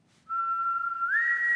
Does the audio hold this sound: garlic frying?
no